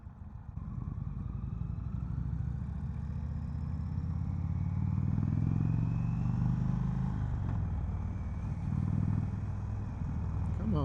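An Indian Springfield Dark Horse motorcycle rumbles continuously while riding, its deep engine note rising and falling with throttle under wind noise, close and loud throughout.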